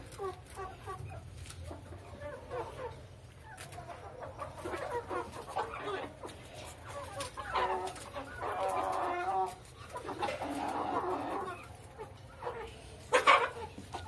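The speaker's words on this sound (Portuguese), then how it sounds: "É galo, é galo." Hens and a rooster cluck and cackle inside a henhouse as they peck at scraps of toast, the calls coming in uneven bursts at moderate distance over a low hum, with a louder squawk near the end.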